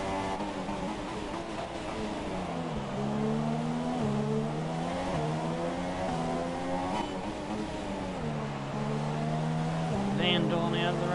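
Red Bull F1 car with a Renault engine racing in F1 2017, its high engine whine climbing through gears with sharp drops at each upshift, loud and close, with occasional faint background sounds.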